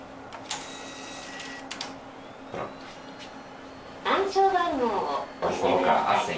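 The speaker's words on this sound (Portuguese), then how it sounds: "Aí, eu coloco o cartão aqui na máquina." At a Japanese city hall, a certificate kiosk machine processes an inserted card with short mechanical whirs, clicks and clacks in uneven bursts, while a person talks nearby.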